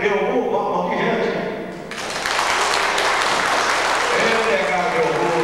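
An audience at a Brazilian live music program, Canta Santa Bárbara, breaks into loud, dense applause after a stretch of talk and music, the clapping filling the room steadily until the end.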